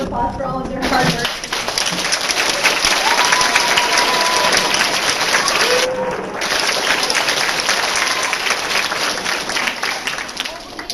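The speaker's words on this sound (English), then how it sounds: "I just want to give them a round of applause for all of their hard work." Audience at a summer drama camp show applauds its camp counselors, a dense, sustained wash of clapping that fills the room for about ten seconds, with scattered voices and light cheering mixed in.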